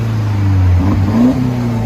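Mercedes C250 turbo from 2015 with resonator and muffler delete, its exhaust giving a deep, loud, close rev that swells briefly and settles back to a steady idle rumble.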